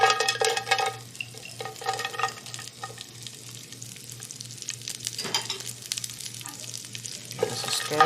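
Diced crisped bacon tossed into a pan of hot oil, a loud burst of sizzling and clatter at first that settles into a softer, steady crackle, with a fresh swell of frying noise at the end.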